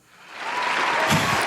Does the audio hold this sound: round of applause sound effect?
yes